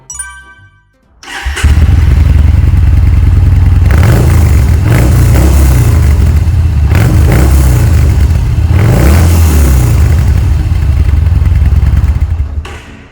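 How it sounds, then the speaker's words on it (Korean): A 2016 Yamaha Bolt 950cc motorcycle starts up and settles into a loud, close idle, then is revved several times in rising and falling swells before shutting off. "시동 영상 한번 보겠습니다"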